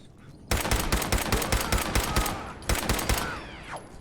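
Video game gunfire in Fallout 4 during a fight with raiders: rapid bursts of automatic fire, loud and close, with a brief pause before a second volley and a fading whine.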